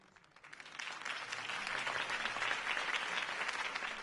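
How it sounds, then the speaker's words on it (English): Applause from a crowd after a campaign speech, starting softly and quickly swelling into steady, dense clapping that holds at full strength to the end. "could have heard that applause"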